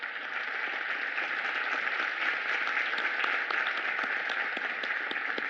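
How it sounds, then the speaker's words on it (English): A steady, full round of audience applause fills the room at a community chamber event, dense continuous clapping from a large crowd at even volume without talk. "Let's give a huge round of applause."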